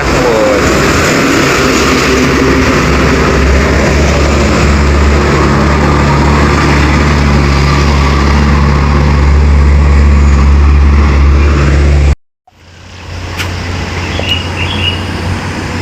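Before dawn, a convoy of palm oil trucks from Bahar passes on the road. Heavy engines rumble loudly and steadily for about twelve seconds, cut off abruptly, then the roar returns more faintly.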